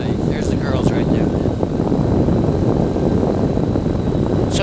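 A light aircraft's propeller engine drones loud and steady in flight, adding a little power over a coastal area, filling the cabin with constant roar and no breaks.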